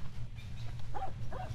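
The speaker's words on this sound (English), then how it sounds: "Hello, doggy." A dog in the video game 35MM gives two short bark-like yelps over a steady low rumble of game ambience, moderately close, with no talking.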